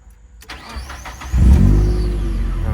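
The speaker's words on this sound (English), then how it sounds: "the car starts right up" A Mazda Miata NB with a newly rewired fuel pump relocator cranks, then fires right up into a loud, close, steady idle, preceded by a faint key click and fuel pump whine.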